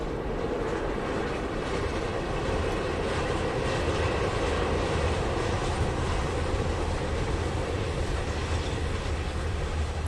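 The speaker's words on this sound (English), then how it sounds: "So we've had a few freight trains come past here." A freight train rumbles steadily past on a new freight line in rural Portugal, a loud, continuous low roar of rolling wagons that holds its level for the whole stretch with no talk over it.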